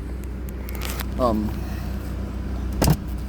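A 1985 Nissan 300ZX Turbo with a 5-speed sits at high idle after a cold start, giving a steady low engine drone. A short whirring chirp and a brief clunk cut in, and a person talks over it.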